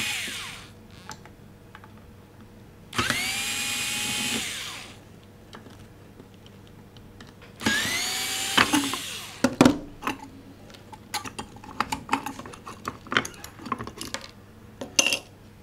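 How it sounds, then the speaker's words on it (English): Metallic clicks, scrapes and small clatters as a Phillips head screwdriver backs out the three screws on the battery cover plate of an SBE 16 SeaCAT instrument, with bursts of louder whirring noise and scattered sharp taps. "you use a Phillips head screwdriver to remove the three screws holding on the battery cover plate"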